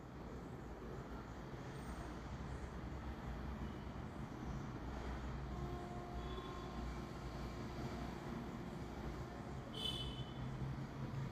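A train rolls through Raghavapuram railway station with a steady, loud rail rumble throughout and a brief wheel squeal near the end. No one speaks.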